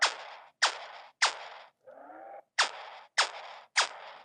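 Six sharp zapping blasts from a LEGO Star Wars toy laser cannon in a quick, evenly spaced series, broken once by a short warbling electronic tone, loud and close.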